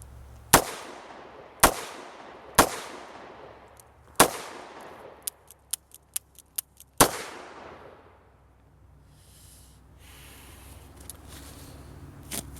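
A Ruger LCR 9mm revolver fires outdoors on a range. There are four loud, evenly spaced shots, then a few lighter clicks and metallic ticks, then one more sharp report that rings out and fades into quiet.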